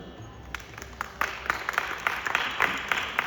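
Audience applause welcoming performers to the stage at a Ramanavami concert, starting with a few scattered claps and building into steady, dense clapping from a crowd in a hall, moderately close and continuing to the end.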